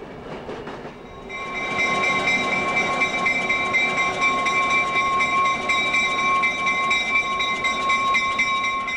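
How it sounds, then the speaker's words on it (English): Rail motor cars run along the South Branch Valley Railroad, a loud, steady rumble and wheel clatter with a sustained tonal whine over it, building up after a quieter opening second and then holding close and constant. "at least 50 motor cars from throughout the country run this railroad every summer"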